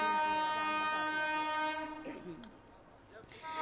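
A train horn sounds a long sustained blast that holds for about two seconds and then fades, followed by rumbling rail noise and a sharp click.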